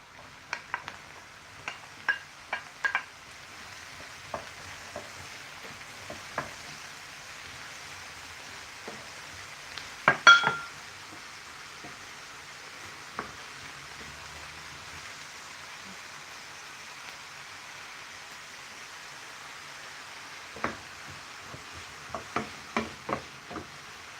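Peppers and onion frying in a pan while being stirred, with a soft steady sizzle and scattered scraping clicks of the utensil throughout, one louder clatter partway through, fairly quiet and without speech.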